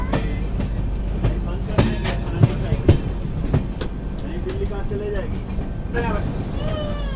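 Kacheguda Madurai Superfast Express pulling into Gooty station, with a steady low rumble of the rolling train, rhythmic wheel clatter and occasional squeals, voices faintly in the background.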